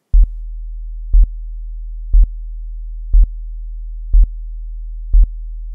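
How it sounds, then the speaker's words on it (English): A steady low bass tone hums continuously, with six evenly spaced short bursts punctuating it about once per second, loud and clean with no other sounds. "now we'll listen to the dynamic track at 40 Hertz"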